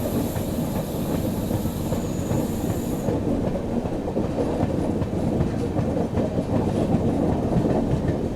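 A Poorvottar Sampark Kranti express train runs along the tracks near New Cooch Behar, giving a loud, steady rumble and rhythmic wheel clatter that continues without a break, with no voices.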